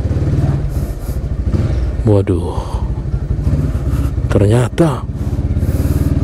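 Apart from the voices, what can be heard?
motorcycles in a narrow Jakarta alley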